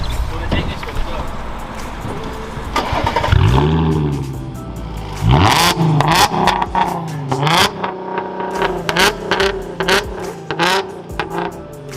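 A BMW M140i fitted with a Massini full titanium valve exhaust system starts up and revs, the engine rising and falling in several loud bursts close by, with people talking around it.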